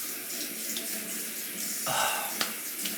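Tap water runs steadily into a sink while a man rinses his face after a straight-razor shave, with a louder, brighter gush partway through and a few small splashes and knocks, close by and with no talking.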